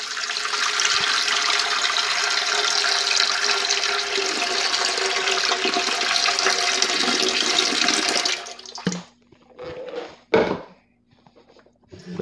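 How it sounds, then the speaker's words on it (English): Filtered water pours steadily and loudly into a container for about eight seconds for rinsing harvested beer yeast, then stops, leaving a few faint clinks and handling sounds. "we just fill here with water. I'm using filtered water"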